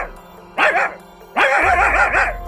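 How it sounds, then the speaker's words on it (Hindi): A dog barks loudly close by in two bursts, the second longer, with a rapid string of sharp barks over a low background rumble. "अरे ये कुत्ता कहाँ से आ गया?"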